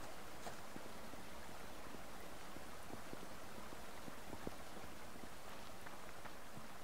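Streams and waterfalls in the survival game Subsistence make a steady, soft, even rush of flowing water that runs through the whole stretch, with no voices or other sounds.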